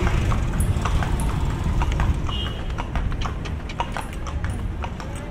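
Horse hooves clip-clop at a steady walking rhythm as a carriage tours the historic Intramuros district of Manila. The close, clear hoofbeats ride over a low street rumble.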